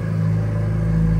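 A forged turbo Subaru engine revs loud and close, a steady rumbling drone with strong low harmonics that holds throughout without a break.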